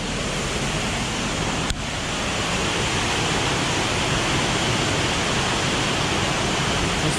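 Boulder Falls, a Yorkshire waterfall in the rain, roars in a loud, dense, unbroken rush of water that sounds near, with one brief click early on and no voices.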